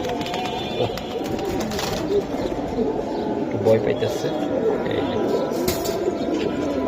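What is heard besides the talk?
pigeons cooing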